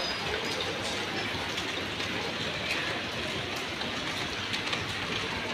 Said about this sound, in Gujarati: આજે તો સુરતમાં વરસાદ છે, હલકો હલકો ચાલુ છે.